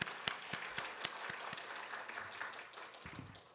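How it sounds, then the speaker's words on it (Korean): A church congregation claps at a Sunday worship service, with sparse, distinct individual claps spread through a thin, quiet round that slowly dies down. "우리 격려하는 마음으로 박수를 한번 하겠습니다."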